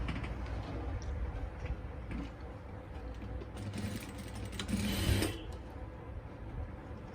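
A sewing machine runs continuously while stitching a straight salwar, giving a close, steady mechanical whirr with small shifts in speed and a brief rise near the end.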